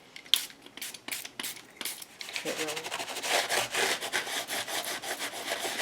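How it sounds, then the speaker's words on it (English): Coarse 60 grit sandpaper scrubbed across the front of a book cover, starting as a few separate rasping strokes and building into fast, continuous close-up scratching. "Grabbing my 60 grit sandpaper, and I'm going to sand on the front of this book cover."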